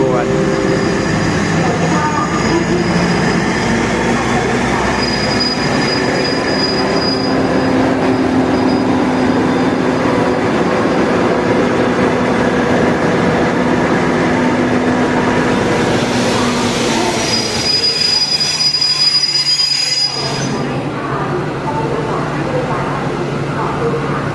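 Ordinary passenger train 258, hauled by a locomotive numbered 4119, arriving at Taling Chan Junction station in the evening with wheels squealing: a loud, steady rolling rumble with high metallic squeals building toward the end.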